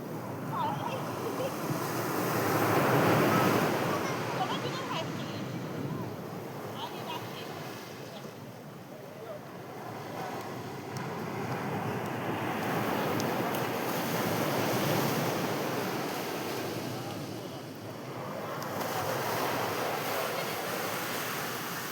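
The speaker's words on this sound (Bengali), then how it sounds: "এত ভাল লাগছে জলের ঢেউগুলো" Ocean waves roll in and break on the shore in slow surges that rise and fall every few seconds, with wind buffeting the microphone and a crowd faintly present in the background.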